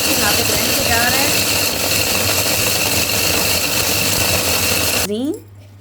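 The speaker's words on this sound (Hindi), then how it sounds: "मशीन में डालने लगी हूँ, ताकि ये गरम गरम अच्छे तरीके से ग्राइंड हो जाए" A grinding machine runs loud and steady, pulverising warm gond ladoo ingredients with a dense whirring drone that cuts off abruptly near the end, leaving a faint falling whine and low hum.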